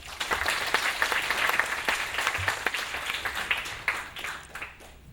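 At a telecom developer forum, seated attendees applaud a CTO after his talk. The dense clapping stays even for several seconds and then tapers off at the end.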